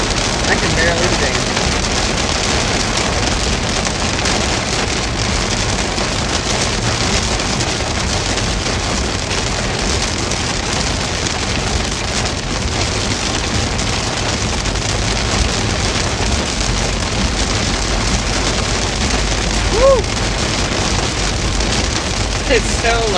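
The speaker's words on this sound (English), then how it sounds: "Oh, there is large hail in this." Heavy rain and large hail pound down during a severe Pennsylvania thunderstorm, a loud, dense, continuous roar that stays steady from start to finish with no gaps.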